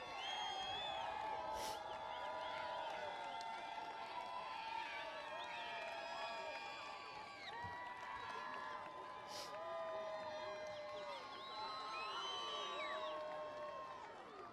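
A graduation crowd at Joseph A. Foran High School in Milford hollers and cheers steadily, with many overlapping voices, whoops and shouts forming a dense, continuous roar.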